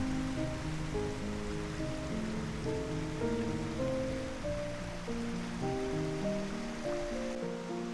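Water flows through a mountain valley stream at Munsadong valley on Dobongsan. It makes a continuous, fairly loud rushing and babbling wash with no breaks and a faint ringing tonal layer underneath.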